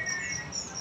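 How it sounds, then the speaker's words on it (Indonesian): Magpie robins and other caged birds at a bird kiosk chirp in thin repeated high tweets over a steady background hum, with no talking. "Ini burung-burung yang lain yang ada di kios"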